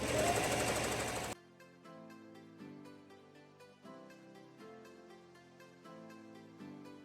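An embroidery machine sews small, tight satin stitches over 3D foam, a steady close mechanical chatter with regular pulsing needle strokes that runs on throughout after a brief louder opening burst.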